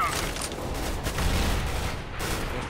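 A grenade blast in CS:GO erupts amid a dense, rumbling burst of gunfire-like noise, loud and sustained, with a brief lull before more blasts near the end.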